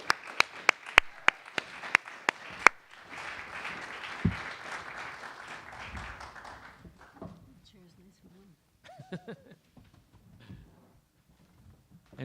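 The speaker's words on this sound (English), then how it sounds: "we can give them another round of applause" An audience at a jazz congress session claps, a few sharp claps followed by a short burst of applause that fades quickly, with voices and murmuring taking over afterward.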